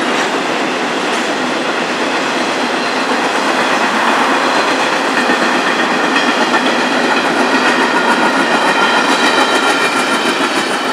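A CSX double-stack freight train passes close and loud in Georgia, a continuous rolling roar with rhythmic clickety-clack from the wheels and no voices.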